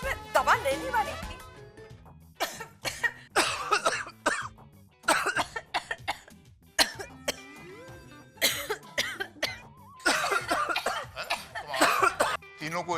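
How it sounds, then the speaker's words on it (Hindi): Three people coughing together indoors in a harsh, overlapping burst of fits mixed with throat clearing, with short pauses between bouts and voices talking in between. "तीनों को एक साथ खांसी?"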